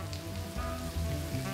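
Paella rice with shrimp and peppers arranged around the pan sizzles steadily at close range, a soft continuous crackle with no speech.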